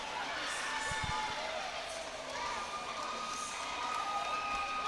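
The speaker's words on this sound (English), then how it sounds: "You hear the war whistles in the crowd from the Polynesians." Fight crowd at a combat sports event cheering in a large arena, with shrill war whistles from Polynesian fans cutting through a steady, distant roar.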